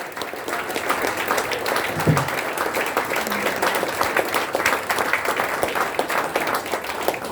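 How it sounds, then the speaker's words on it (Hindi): Seminar audience in Bhopal breaks into steady applause as a guest is welcomed to the stage, a thick, even wash of clapping throughout with no one speaking over it. "दोस्तों जोरदार तालियों से, जोरदार"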